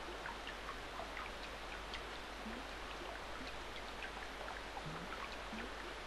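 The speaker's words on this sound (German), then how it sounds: "Es hört sich so an, als ob es regnen würde." Steady rain hissing throughout a scene in the video game Secret of Evermore, with faint scattered drips and ticks over a continuous even wash of sound, no voices present.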